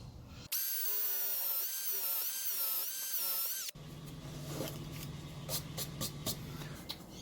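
A power drill bores into wood for a Viking throne build, giving one steady, high whining run of about three seconds, then stopping before quieter handling noises.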